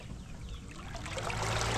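Steady rushing water washes past a boat driven by a Bixpy N-3 electric motor, growing louder and fuller toward the end with a low motor hum underneath.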